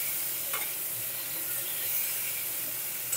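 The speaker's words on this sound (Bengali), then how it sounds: "পটলগুলো একটু নেড়ে চেড়ে দিতে হবে" Pointed gourd (potol) pieces fry in hot oil in a pan, a steady dense sizzle running throughout while a utensil stirs them now and then, close and fairly loud with no talking.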